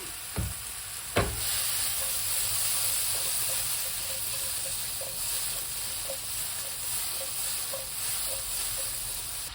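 Shiitake mushrooms seasoned with black pepper and salt frying in a pan, a steady bright sizzle with a couple of sharp clanks from stirring at the start and faint periodic clicks throughout.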